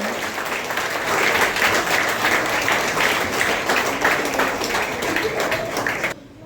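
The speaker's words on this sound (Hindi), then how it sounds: "जोरदार तालियां साथियों बजती रहे।" Sustained crowd applause at a Northern Railway headquarters retirement ceremony in New Delhi, dense and steady for about six seconds before cutting off abruptly near the end.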